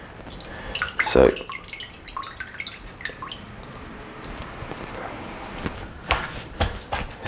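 Food is rinsed under running tap water, making close splashing and dripping with a few louder spatters, while someone talks briefly.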